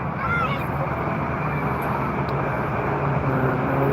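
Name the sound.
airplane at Frankfurt Airport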